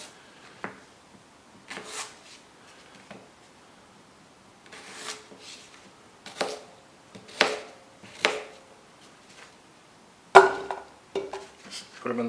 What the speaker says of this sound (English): just to make the potatoes soften faster and to make them easier to mash, I usually just cut them into cubes